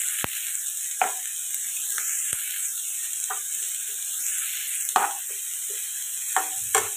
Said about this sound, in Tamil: இதுவும் இதோடு சேர்த்து வதக்கலாம்